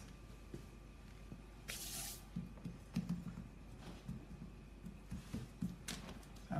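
Short spray bursts from a can as cake decorations are dusted and sprayed, two sharper hissing puffs standing out among soft handling clicks and rustles on a work surface.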